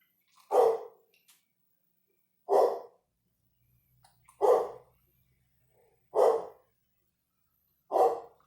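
A dog barks five times, single loud barks spaced about every two seconds, fairly close, with silence between them.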